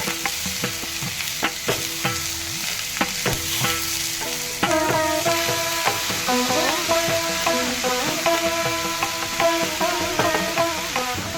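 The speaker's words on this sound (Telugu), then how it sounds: "ఈ దొండకాయ ముక్కల్లో తగినంత ఉప్పు, పసుపు వేసి బాగా కలపాలి" Ivy gourd pieces tossed with salt and turmeric in a pan, a spoon scraping and clacking in frequent irregular strokes over a steady low background hiss, close and fairly loud throughout with no talk.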